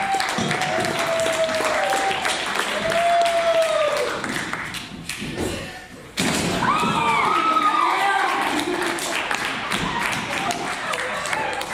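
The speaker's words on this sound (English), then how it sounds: "let's all give one big round of applause" A large crowd claps and cheers loudly, with a brief dip before the applause swells again and continues strongly, some shouting mixed in.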